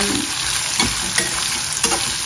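Onion and green chili sizzle steadily in oil in a pan for squid masala, a continuous close frying crackle broken by a few spoon-stirring scrapes, with no talking.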